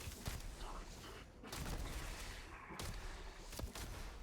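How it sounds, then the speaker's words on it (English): Shots from the AA Fuse hand cannon in Starfield land as several heavy, spaced blasts with a slow rhythm, each a sharp crack followed by a rumbling tail, moderately quiet under a busy game backdrop. "it being a hand cannon with that kind of slow fire rate"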